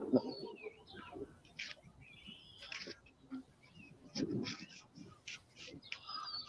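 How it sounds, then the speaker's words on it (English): Birds chirp outdoors in a quiet spot, scattered short tweets and calls coming and going at moderate distance, mixed with low murmuring voices and small handling noises. "can you guys hear all the birds?"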